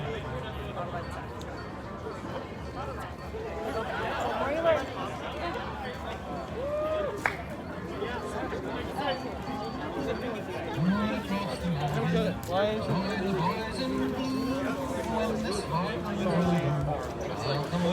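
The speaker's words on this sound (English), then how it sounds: "That's the crowd." A protest crowd in Massachusetts chatters and murmurs in a continuous babble of many voices, with some voices nearer and clearer over the general hubbub.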